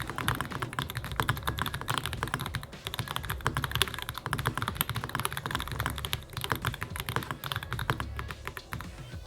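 Rapid, steady clacking of a Mode mechanical keyboard on a desk mat being typed on up close, dense keystrokes continuing without pause.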